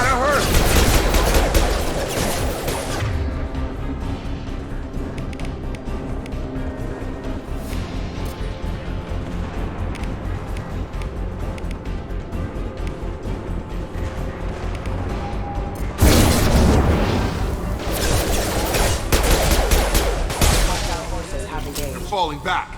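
Sustained gunfire from the Mass Effect 2 video game rattles loud and close in dense bursts, heaviest at the start and again near the end, with voices speaking over the shooting.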